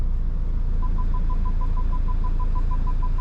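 A BMW E90 parking sensor beeps in reverse, a rapid evenly spaced series of short faint tones over the low hum of the car's idling engine.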